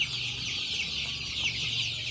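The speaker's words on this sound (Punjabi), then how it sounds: "ਇਹ ਜਿਹੜਾ ਦੇਸੀ ਚੂਚਾ ਜੀ ਵੱਡਾ ਚੂਚਾ ਹੈ" A large desi chicken chick gives a steady stream of high, thin peeping calls, close and fairly soft, over a low background hum.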